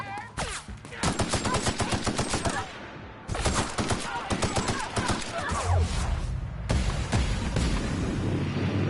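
Rapid automatic gunfire in The Outer Worlds, loud bursts with heavy impacts, pausing briefly between volleys, with a voice talking faintly underneath.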